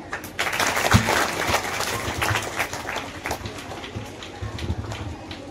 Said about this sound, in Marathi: टाळ्या.